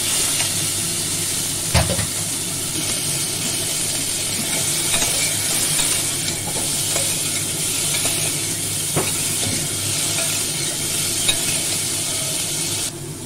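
Cauliflower fries in hot oil with turmeric and salt, a loud, steady, hissing sizzle that holds for the whole stretch, with scattered pops and a few stirring knocks.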